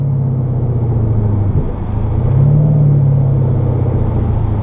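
A Ford Mustang 5.0 V8 cruising nearby on a local street cruise, a deep steady engine rumble with a slight rise in pitch midway, heard from inside a following car without talk.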